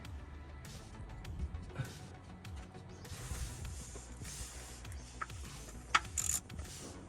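A bolt is tightened on a BMW E46 M3 after a new sump plug washer goes on, producing faint ratcheting clicks and small metallic mechanical sounds in a quiet workshop.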